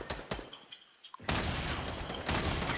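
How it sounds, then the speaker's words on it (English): In Fortnite Battle Royale, a sniper shot rings out: a few sharp cracks come first, then a loud, sustained blast of gunfire noise fills the rest of the moment. "I got sniped by another team to our right"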